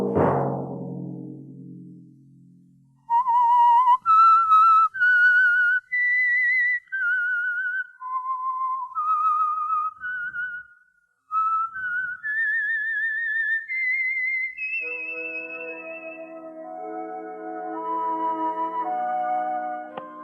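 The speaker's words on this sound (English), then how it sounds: "Let that whistle be your signal for the Signal Oil program, The Whistler" A lone human whistler performs the signature tune of the radio drama The Whistler, a slow, clear melody of sustained, wavering notes, rising and falling alone after a fading low sound, then giving way to a soft orchestral chord.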